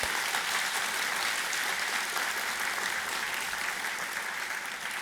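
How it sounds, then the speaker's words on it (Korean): A crowd in a Buddhist dharma hall claps steadily for about five seconds, a thick, even wash of many hands at moderate loudness with no voices. "박수 한번 쳐드릴게요."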